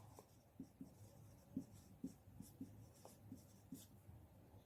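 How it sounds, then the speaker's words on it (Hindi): Chalk strokes on a board during a maths lesson tap and scratch in a quiet, steady rhythm of short marks, faint and close, with no talk. "लिखते हैं।"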